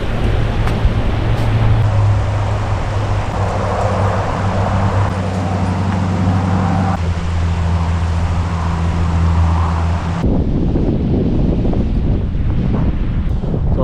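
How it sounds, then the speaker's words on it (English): Cold, bitter wind buffets the microphone outdoors in the Alberta bush, a loud, continuous rumbling roar that fills the clip, with a low engine drone underneath for most of it, then a sudden change in tone near the end. "that wind's just bitter cold"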